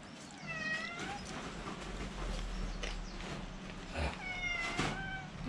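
On a rural farm, a cat meows several times close by with drawn-out, wavering cries over a low background rumble.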